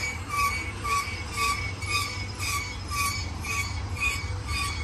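A BNSF domestic intermodal double-stack freight train approaches the San Bernardino hub, its low rumble steady beneath repeated high wheel squeals and clatter that pulse about every half second, moderately close.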